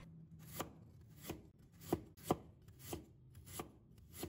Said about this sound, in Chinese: 准备1块生姜，切成薄片